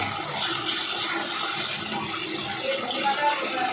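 Water poured into a pan of fish curry in the middle of cooking gives a steady, broadband rush and hiss that runs unbroken for a few seconds, close and moderately loud, with no talking over it.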